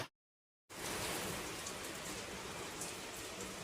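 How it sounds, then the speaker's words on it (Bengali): Steady rain falling outside a home, a dense, even hiss that starts after a brief silence and continues unbroken, no voices. "কি বৃষ্টি পড়ছে"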